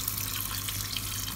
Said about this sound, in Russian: Добавляю воды.